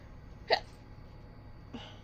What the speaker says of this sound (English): I keep like I keep burping and like hiccuping because I'm hungover from last night